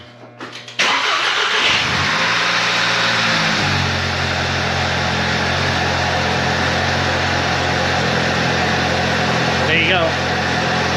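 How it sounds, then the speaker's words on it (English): A 2008 Volkswagen GTI with a swapped engine cranks, catches and settles into a steady idle that runs on to the end, close and loud, with a brief spoken comment over the start. "But I'll start it up for you so you can hear it."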